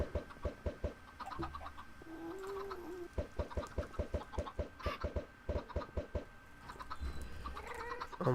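Chickens in the video game Minecraft cluck in rapid, regular bursts, close and fairly loud, with short pauses between runs and soft game sounds underneath.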